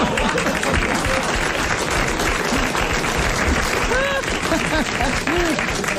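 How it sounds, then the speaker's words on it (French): A television studio audience applauds loudly and continuously, dense clapping with scattered cheers and voices calling out over it. "Merci pour ceux qui applaudissent les sœurs."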